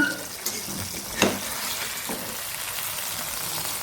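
Banana-leaf-wrapped mackerel frying in special masala, turned over in the pan with a couple of sharp clatters followed by a steady close sizzle and no talking.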